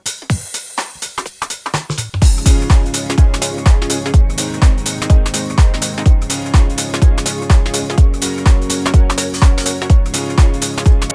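An electronic track plays with chords, a pad and a groove together. A sparse intro gives way after two seconds to a steady, loud beat with punchy low hits under sustained harmonic layers.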